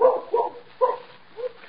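A dog barks in a radio drama, several short muffled barks and yips in an uneven rhythm, fairly faint, with no talk over them.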